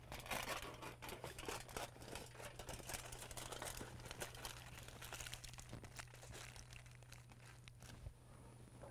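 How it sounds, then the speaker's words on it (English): Shiny aluminum foil being crinkled and handled outdoors beside a pecan tree during top working, with faint, close rustling and crackling in irregular bursts over a steady low hum. "Aluminum foil, shiny side up."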